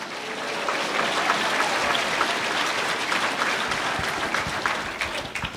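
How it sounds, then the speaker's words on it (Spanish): Steady applause from a church congregation in Sucre, Bolivia, fills the space at even loudness for several seconds and thins slightly toward the end, with no speech over it. "Fuerte aplausos"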